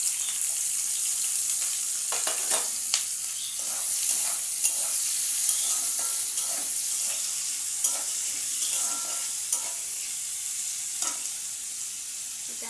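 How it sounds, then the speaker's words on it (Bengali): Potatoes, onions and chillies fry in hot oil in a wok, giving a steady, moderately loud sizzle broken by light stirring clinks and scrapes, with no voices. "এই তেলেই আমি এখন এই আলু, পেঁয়াজ আর লঙ্কাটা ভাজা করে নেব সুন্দর করে।"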